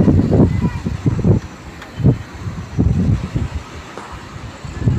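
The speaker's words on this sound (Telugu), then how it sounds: "చాలా గాలి వస్తుంది" Strong gusting wind in Udhampur buffeting the microphone in loud, irregular low rumbling bursts, rising and falling in waves.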